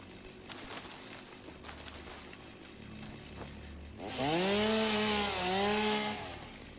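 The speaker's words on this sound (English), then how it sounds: "So the chainsaw will actually cut down a whole area of things, even if it's shrubbery." A chainsaw in the video game Satisfactory roars to life and cuts through shrubs and trees, its engine note rising and wavering loudly for a few seconds after a quieter stretch of background game ambience.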